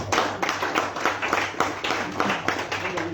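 An audience at a youth peace and tolerance event in Zimbabwe claps for a speaker, a modest group's steady patter of hands, close and continuous, with some voices mixed in.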